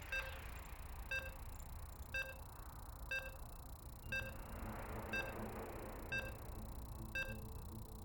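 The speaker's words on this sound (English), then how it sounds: "And you can hear the beeps." Short electronic beeps repeat about once per second, eight in a row, while a StarCraft 2 match loads on the Ghost River map, set over a steady low hum with no talking.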